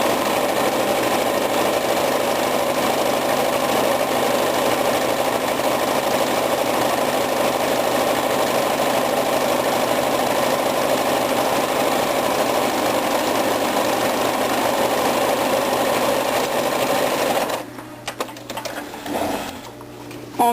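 A sewing machine runs a long, loud and steady seam with a dense mechanical whir, then stops near the end, leaving a few light clicks and handling sounds.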